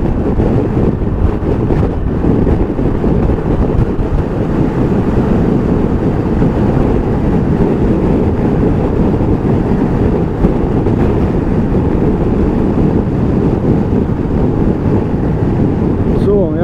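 Loud, constant roaring wind buffeting the microphone while riding a 2021 Piaggio Beverly 400 S scooter, steady throughout with no letup, masking most other sound, including the engine.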